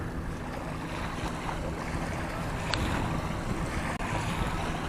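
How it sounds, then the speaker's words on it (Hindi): Light wind blows steadily outdoors at Tatapani near Shimla, a constant broadband rush buffeting the microphone throughout, with no voices over it. "आज हल्की हल्की हवा चल रही है"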